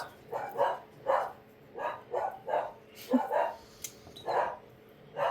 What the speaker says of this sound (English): they're not even in this room, y'all, and they are that loud. Like, oh my god, dogs.